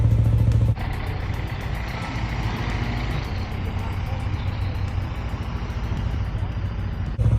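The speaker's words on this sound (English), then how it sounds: "I'm really intently listening to Bramble's exhaust right now." Steady low boat engine idle with a regular throbbing exhaust pulse, continuous and fairly close, with a brief louder burst at the start and end.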